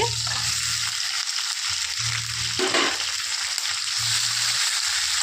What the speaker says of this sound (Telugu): ఇదైతే ఆయిల్లోనే మగ్గాలి.